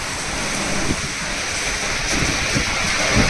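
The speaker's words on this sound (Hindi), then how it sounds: "पूरी रोड भर गई है पानी से, इतनी तेज बारिश है" Heavy rain floods a road in Delhi late at night, a loud, unbroken watery roar and splashing wash close by, with no talking.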